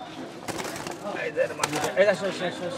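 Pigeons bought at a rural market, soft cooing and brief wing flutters close by, with people talking over them throughout.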